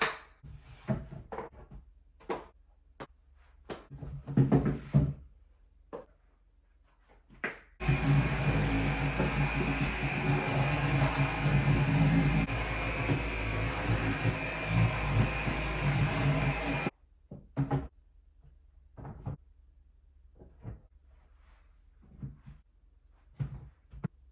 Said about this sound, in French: Maintenant qu'on a passé l'aspirateur pas mal partout dans le garde-robe